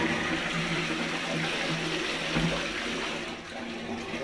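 A dual-flush toilet tank empties in a steady rushing gush of water, close and continuous, easing slightly toward the end.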